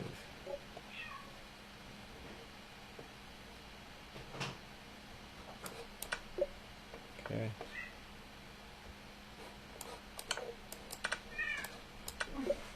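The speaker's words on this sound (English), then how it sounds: "What the heck is wrong with that cat?" A house cat meows and cries intermittently in a quiet room during an online chess session, faint soft calls scattered over the stretch alongside light clicks and taps, with a person briefly speaking.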